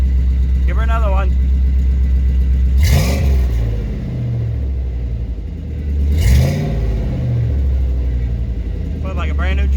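Deep exhaust rumble from a 1988 Chevy V30 truck fitted with a fresh welded exhaust, idling steadily between two strong revs, with short bursts of talk at the start and end.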